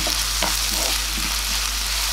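Onions with ginger-garlic paste frying in a pan for dhaba-style paneer masala, a steady close sizzle with soft stirring scrapes throughout, no talk.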